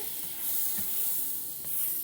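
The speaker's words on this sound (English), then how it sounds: "it's just sizzling popcorn right now" Butter sizzles in a frying pan, a soft steady hiss with occasional faint crackles, quiet and without talk.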